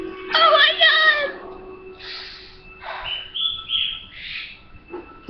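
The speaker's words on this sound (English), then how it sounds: "Did you hear my bird?" Bright, warbling bird chirps close by, a burst of rapid tweets followed by shorter scattered calls, with a faint voice-like murmur underneath.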